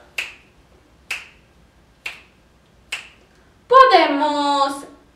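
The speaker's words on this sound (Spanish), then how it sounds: "Podemos chasquear los dedos." Four crisp finger snaps ring out alone at an even, roughly one-second pace, each sharp and close, followed by a voice speaking.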